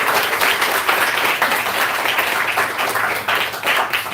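Dense, continuous applause from a youth congregation at a church service, many hands clapping together in a steady loud wash that fills the room without letup.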